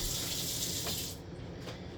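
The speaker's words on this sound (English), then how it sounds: "put water in there, around the edges, around the edges, around the edges" A small glass of water poured around the edges of a pan holding a pork steak, giving a steady faint hissing splash that fades after about a second.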